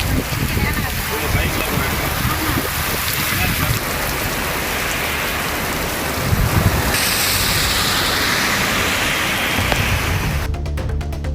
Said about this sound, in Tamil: சிவகங்கை மாவட்டம் மானாமதுரை பகுதியில் கனமழை வெளுத்து வாங்கியது.